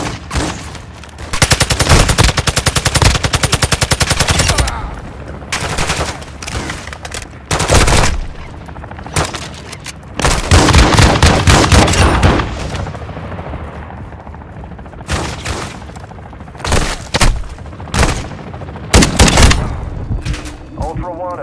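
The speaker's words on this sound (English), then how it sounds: "You are taking effective fire." Bursts of automatic and single gunfire in the Call of Duty Warzone DMZ video game, loud repeated volleys separated by brief gaps, with a game voice announcing alerts.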